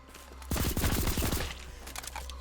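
Rapid burst of gunfire in a free horror game, a dense volley of shots starting half a second in and rattling for about a second before trailing into scattered echoing pops.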